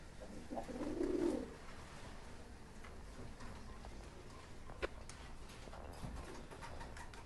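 A red King Lahori pigeon gives one soft, low coo close by, then faint ticking and rustling follow in a quiet room.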